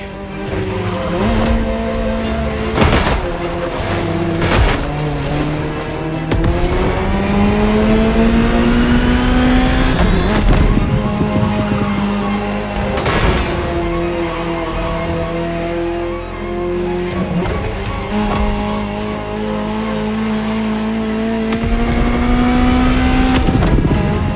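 A Ferrari supercar engine in the video game The Crew Motorfest roars and revs continuously, pitch climbing through gears and dropping between shifts, loud and close with no talking.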